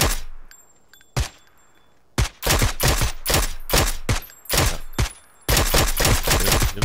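Rapid bursts of automatic gunfire in a multiplayer shooter video game, loud and close, with a few single shots first and then dense sustained volleys separated by short gaps.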